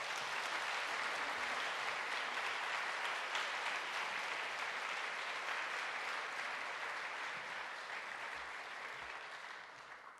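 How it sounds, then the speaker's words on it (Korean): Audience applause welcoming a pastor at an overnight church service, steady dense clapping from a crowd that holds for about ten seconds and then gradually fades. "우리 큰 박수로 한번 환영할까요?"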